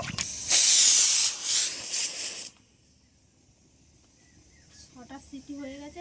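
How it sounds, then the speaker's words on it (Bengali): A pressure cooker whistle hisses loudly as steam escapes while meat cooks, a sharp sustained blast lasting a couple of seconds before it cuts off abruptly, followed by quiet and faint voices speaking. "এবার 5 থেকে 6টা সিটি দিয়ে নেবো, নিলেই হয়ে যাবে।"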